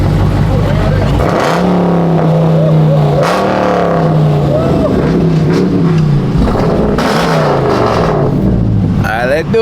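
A Dodge Durango RT and other Mopar vehicles at a car meet, a V8 engine revving loudly and close by in repeated surges that rise and fall, with people talking over it.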